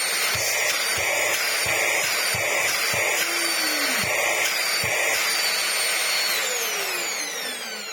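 A Vax Air Stretch vacuum cleaner runs loud and close with a steady high motor whine, punctuated by several knocks and clunks before the pitch slowly winds down near the end.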